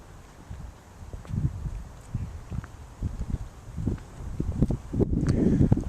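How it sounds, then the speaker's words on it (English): Wind gusts outdoors beside a parked 2011 Citroen Relay SWB campervan conversion, low rumbling buffets against the microphone that rise and fall and grow stronger toward the end, with no speech. "wind's getting up again"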